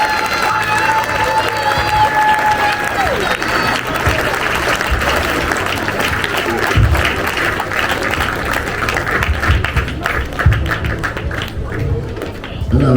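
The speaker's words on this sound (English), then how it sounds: "I really need a real big round of applause from you, especially the kids" Big sustained round of applause from an awards ceremony audience full of kids, dense clapping mixed with cheering and crowd noise, loud and continuous throughout with a slight swell near the end.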